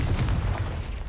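Confringo blasting spell cast in Hogwarts Legacy, a deep booming burst with low rumble that rolls on for about a second, fairly loud and close.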